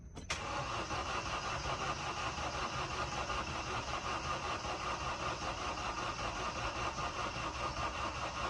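A car engine cranks over steadily after a fresh motor install, a continuous loud churning drone without firing, close and alone for several seconds.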